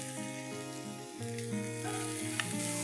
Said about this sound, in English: Saute this and add in the chopped onions.